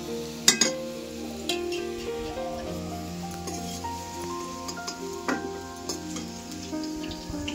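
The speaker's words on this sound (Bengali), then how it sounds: "আলুগুলো আমার লাল করে ভাজা হয়ে গেছে" Potatoes frying in oil in a wok, with a steady sizzle and crackle throughout, a few sharp metallic clinks near the start and again around the middle, close and moderately loud.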